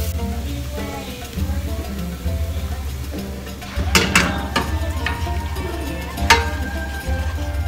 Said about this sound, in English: We mix all these spices in our hot olive oil. And we're going to put like 2 tablespoons of garlic.